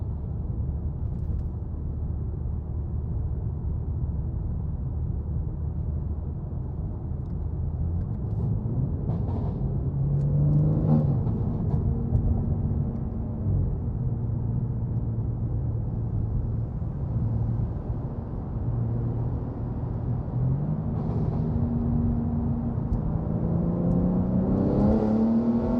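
A BMW M3 Competition's engine echoes through a road tunnel, a steady droning rumble that rises in pitch through several revving gear pulls, loud and close throughout.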